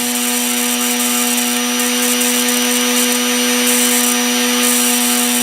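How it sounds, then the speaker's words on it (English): High-voltage sparks arc across a stretched spark gap in a loud, unbroken crackling buzz, with a steady electrical hum running underneath. "That's not a small spark anymore. That's thousands and thousands of volts more than what I'm putting in the spark gap"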